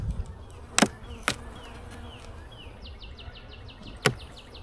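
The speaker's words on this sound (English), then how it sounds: "I think there's too many bees here" Bees swarm around hive frames full of honey, a steady close buzzing drone with several louder passes near the microphone and a few brief sharp knocks.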